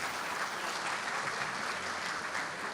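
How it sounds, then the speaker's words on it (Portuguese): An audience at an economic business event applauds, a continuous even roll of many people clapping at moderate volume throughout, with no voices standing out. "Salva de palmas para vocês"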